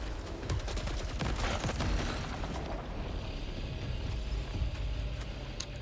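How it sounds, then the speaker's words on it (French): Gunfire and ricocheting bullets in the video game Saros, heard as dense bursts of rapid shots and impacts over a busy rumbling game mix, loudest early then thinning into scattered pops. "Ricochet des balles. Balle spectrale, balle supplémentaire."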